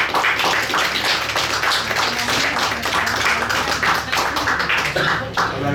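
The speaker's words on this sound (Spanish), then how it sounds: "Un fuerte aplauso, por favor, mis queridos amigos." Dense, sustained clapping from a live podcast audience, loud and continuous for several seconds with scattered sharp individual claps.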